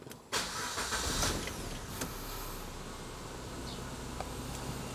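A 2015 Suzuki Ertiga GX manual car engine cranks and catches, then settles into a steady idle hum, close by with a faint whine above it.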